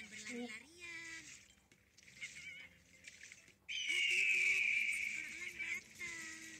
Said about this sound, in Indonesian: Seorang elang datang.